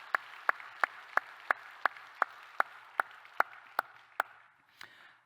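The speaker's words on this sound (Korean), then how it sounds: "인사하실 때 뜨겁게 박수로 격려하시겠습니다" Slow, evenly spaced claps ring out about a dozen times, sharp and distinct in a quiet room as an audience welcomes a guest stepping forward, then the rhythm stops and a faint shuffle follows.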